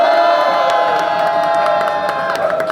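A rally crowd at a political press event roars a sustained victory cheer in support of a presidential candidate, loud massed shouting and whooping held steady for several seconds before easing slightly.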